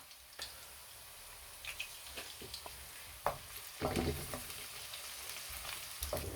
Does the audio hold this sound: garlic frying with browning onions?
yes